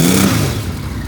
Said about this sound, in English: it's got a lovely even idle. It just makes a nice kind of whirring noise